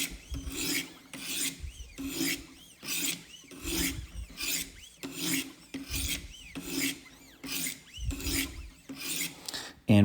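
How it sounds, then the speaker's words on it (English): Repeated rhythmic rasping strokes of a fixed blade knife drawn across a coarse sanding stone on a Wicked Edge sharpener, close and steady, about a dozen back-and-forth passes. "And these are sanding stones."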